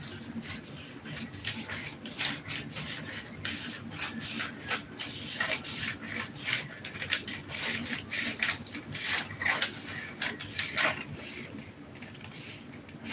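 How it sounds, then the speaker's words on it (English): Scissors snip continuously through a paper sewing pattern for a dress, giving a close, steady run of rasping, rustling strokes with brief pauses, heard alone without speech. "Let me first cut out the pattern."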